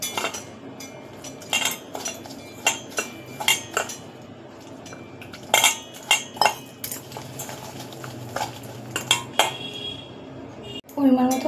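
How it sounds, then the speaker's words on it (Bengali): Prawn and banana flower batter with chilli powder, rice flour, salt and turmeric being mixed by hand in a metal bowl, producing repeated close clinks and scrapes against the bowl with soft squelching between, no talk. "এবার আমি ব্যাটারটা ভালো করে হাত দিয়ে মাখিয়ে নেব।"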